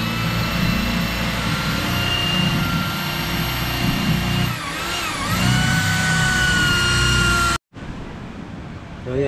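Drilling into the engine mount of a wooden boat under construction, a loud continuous power-tool whine with a pitch dip midway, then a cut and a quieter drone with background noise.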